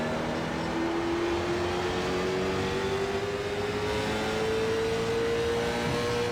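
Race car engine in the iRacing sim, from a Mazda MX-5 Cup or Late Model Stock race, holds a steady, slowly rising drone under a constant wash of road and wind noise, with no voices.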